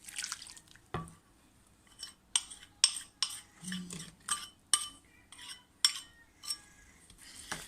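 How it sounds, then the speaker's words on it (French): Chocolate being stirred into cake batter in a bowl: soft, fairly faint clicks and taps of a utensil against the bowl repeat in an uneven rhythm, with a wet, sticky texture and no talking. "Et là, on va mélanger."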